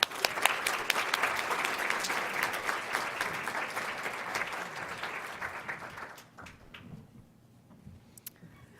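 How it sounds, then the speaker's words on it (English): An audience at a business talk applauds steadily to welcome a speaker, a dense, loud clapping that thins and fades out over the last few seconds. "So please help me give a round of applause introducing her."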